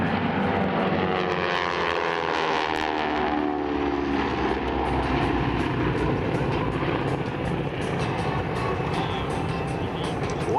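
AeroShell T-6 propeller aircraft passing overhead at the Sun 'n Fun air show, a loud, steady radial-engine drone with a falling pitch as they fly by, continuous over ten seconds.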